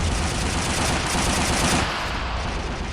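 Sustained gunfire from soldiers in the WWII strategy game Men of War: Assault Squad 2, set on a 1939 Finnish defensive line, with dense overlapping rifle and machine-gun bursts that continue loud throughout, thinning slightly near the end.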